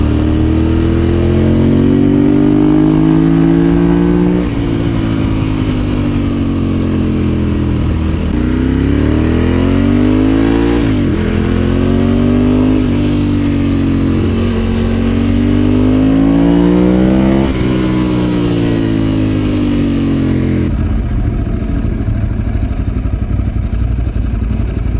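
A motorcycle engine drones loud and close while riding, rising and falling in pitch through repeated gear changes and throttle surges, then settling into a rougher lower rumble near the end.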